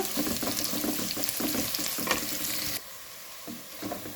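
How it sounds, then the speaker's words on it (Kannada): Onions, curry leaves and green chillies frying in a pan while they are stirred, a steady close sizzle with stirring scrapes that drops to a quieter, thinner hiss near the end. "ಈರುಳ್ಳಿ ಸ್ವಲ್ಪ ಕೆಂಪಗಾಗೋ ತನಕ ಇದರಲ್ಲೇ ಹುರ್ಕೊಳ್ಬೇಕು"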